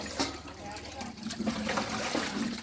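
Tap water pours and splashes while dishes are washed under the tap, a continuous trickling stream with clinks of utensils, heard fairly close and moderately quiet.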